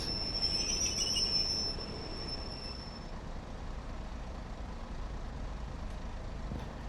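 A Class 143 Pacer in Train Sim World 4 brakes to a stop, its wheels giving a thin high squeal that fades after a couple of seconds over a steady low rumble of the train.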